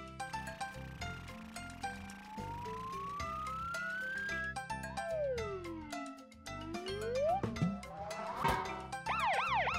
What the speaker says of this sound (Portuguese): Isso é uma sirene alta e clara.